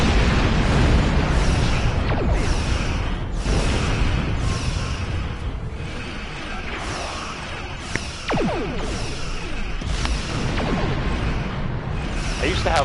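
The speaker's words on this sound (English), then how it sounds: "I used to have more photon torpedoes." Photon torpedoes fire and burst in Star Trek Online space combat, a sequence of swooshing launches and booming detonations repeating every second or so, loud and close, with a voice talking in places.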